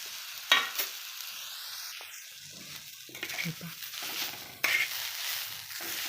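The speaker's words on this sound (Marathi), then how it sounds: "त्यात आता आपण धन आणि तीळ जे आहे ते सुद्धा आपण फ्राय करून घेणार आहोत" Coriander seeds and sesame roast in a pan with a soft, fairly quiet sizzle and crackle, broken by a few sharper stirring scrapes and taps.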